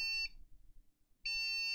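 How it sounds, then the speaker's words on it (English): A Compaq CQ2 computer sounds long, shrill electronic error beeps caused by bad memory: two sustained high tones separated by a quiet gap, clear and close. "It started beeping when we started filling with the memory, so it's going to be a memory error."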